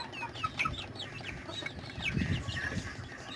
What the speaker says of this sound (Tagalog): So, meron tayo itong sisiw.